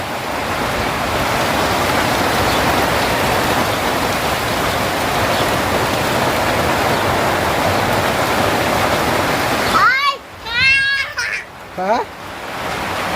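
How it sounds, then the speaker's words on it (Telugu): Heavy rain pours steadily in a village farm setting, a dense continuous wash of drops close by for about ten seconds before voices break in and people talk over the fading downpour. "ఫ్రెండ్స్ చూడండి వర్షం అయితే బాగానే పడుతుంది"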